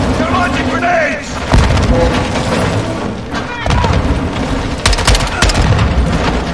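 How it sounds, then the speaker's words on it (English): Grenade blasts and gunfire in the Modern Warfare II video game, a dense, loud barrage of booms, thuds and rapid shots that runs throughout with shouting voices mixed in. "Incoming! Take cover! They're launching grenades!"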